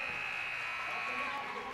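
A basketball game buzzer sounds at the end of the first half in a high school boys' gym, one steady loud electronic tone that carries through the clip over crowd noise.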